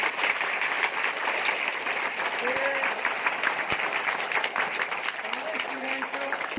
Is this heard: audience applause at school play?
yes